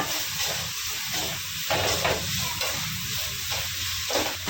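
Two green chillies sauté in hot oil in a pan, giving a steady close sizzle and hiss with a few soft stirring scrapes, and no voices.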